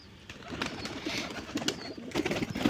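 A pigeon at a pigeon farm, where the birds are being treated for a cold-related illness, gives soft, low cooing sounds. They are faint and repeat against a noisy background hiss.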